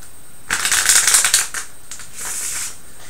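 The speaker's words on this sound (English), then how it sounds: "I'm going to do a quick shuffle here, and one more for good measure." Malifaux game cards being shuffled twice: a close, crisp riffle of about one second, a short pause, then a second, softer shuffle.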